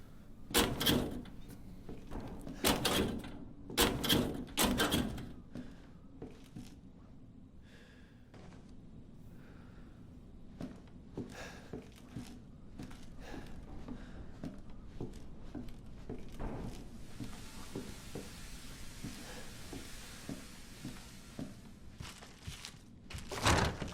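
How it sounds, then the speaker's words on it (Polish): Forcing a cellar door in the video game Resident Evil 7, a run of heavy thumps and bangs at the start followed by quieter knocks, creaks and scrapes over a low hum, no talk. "Postanowił od razu drzwi do piwnicy sforsować."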